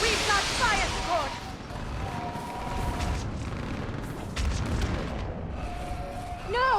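Heavy artillery fire support pounds a battlefield in Mass Effect 3, with dense rumbling booms and blasts rolling through the whole stretch while voices shout over the din.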